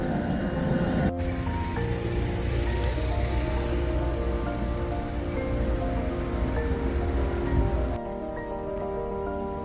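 Water display fountain outside a theatre building in Brno, splashing in a steady, loud, continuous wash with broadband hiss and no talk over it.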